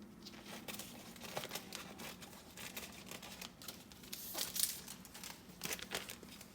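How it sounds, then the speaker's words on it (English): Quiet, close crinkling of plastic as scissors snip through a piping bag while making whipped body butter, with soft irregular rustles. "you're going to take the piping bag and cut off the top"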